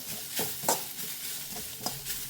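A spoon stirs mango ginger pickle with turmeric powder in a pan, making several quick scraping strokes over a soft constant sizzle.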